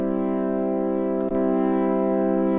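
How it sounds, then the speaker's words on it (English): Korg Prologue 8 synthesizer pad with the drive switch on, a steady, rich and gritty sustained chord heard up close, with one brief click partway through from the switch being flipped. "I'll flip the drive switch, and you can hear"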